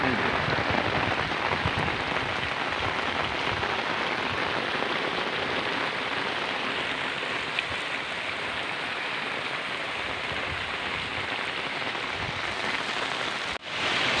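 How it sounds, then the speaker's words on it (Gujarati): Heavy monsoon downpour across Banaskantha district, a dense continuous roar of rain hammering surfaces and flooded ground, steady and loud throughout with no voices. "સમગ્ર બનાસકાંઠામાં હાલ વરસાદનો માહોલ છે"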